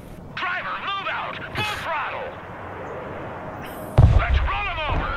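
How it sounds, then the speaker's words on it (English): Artillery fire striking a building in the video game Broken Arrow, with several distant booms and a louder impact near the end, mixed with radio-style chatter and voices talking throughout. "artillery on that building"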